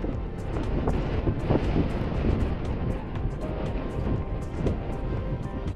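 Strong wind blows across a mountain summit in the Canadian Rockies in winter, a steady, loud, broadband roar with gusty buffeting against the microphone and no talking.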